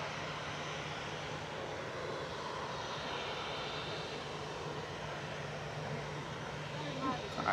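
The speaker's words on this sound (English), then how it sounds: "And Ryanair heading off to Prague here, EIDPN, flight 6842, 737-800 for Boeing." Ryanair Boeing 737-800 jet departing Manchester Airport for Prague, heard as a steady, distant engine roar holding at an even level throughout, with a faint low hum underneath.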